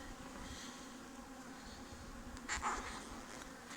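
Honeybees buzz softly in an opened beehive during an autumn colony inspection, a faint continuous drone with a brief louder swell near the end.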